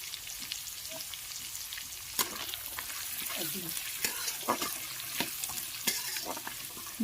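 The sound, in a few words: taro leaves with turmeric frying on medium flame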